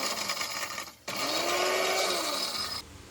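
A mixer grinder grinding roasted cashews whirs in a short burst, pauses briefly, then runs again with a rising motor whine before cutting off near the end.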